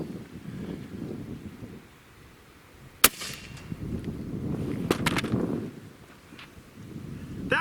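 An AEA 9mm air gun fires once into a watermelon outdoors, a single sharp crack followed by a few smaller pops amid gusty wind noise.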